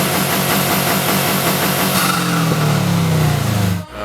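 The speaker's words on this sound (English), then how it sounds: "Now I can actually hear the turbo." Steady loud engine of a 2012 Subaru Impreza WRX with Cobb Tuning stage 1 intake, turbo whistle rising over the drone, then a sudden cut near the end.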